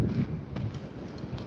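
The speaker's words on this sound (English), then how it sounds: "It's really windy out." Outdoor wind buffets the microphone in low, uneven rumbling gusts, steady and fairly close, with no other clear sounds on top.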